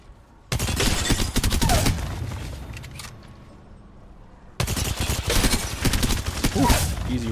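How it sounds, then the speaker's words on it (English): Rapid bursts of gunfire from an Apex Legends weapon with Hammerpoint rounds, loud and close, two dense volleys separated by a quieter stretch with a fading tail. "I'm shooting an invisible barrier."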